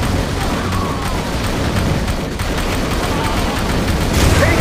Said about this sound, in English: Our position is under heavy fire.